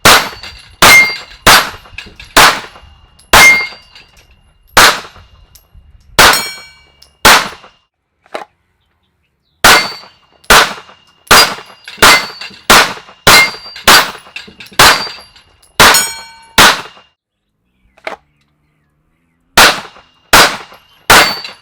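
A Sig 226 pistol fired outdoors: sharp, loud single shots in quick irregular strings with short pauses, each crack ringing with a metallic tail, no talk.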